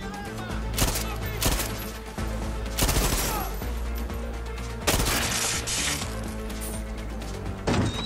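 Gunshots in Far Cry 6 during a special operation: a handful of loud, sharp reports spaced a second or two apart, each with a short echoing tail, over a background of game music and ambience.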